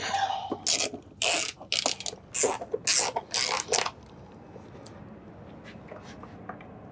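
A hand ratchet clicks in several short, quick bursts as corroded bolts are worked loose, crisp and close, then gives way to quieter background after a few seconds.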